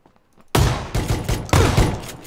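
Gunfire in the battle royale game PUBG, a short burst of loud, close shots in three quick clusters after a brief quiet start, each crack sharp and immediate.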